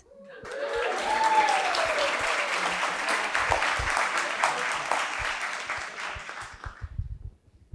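Applause fills a room at a wedding celebration as Elliot is welcomed up to give the closing speech, a steady burst of many hands clapping that swells quickly, holds for several seconds, then thins out and fades.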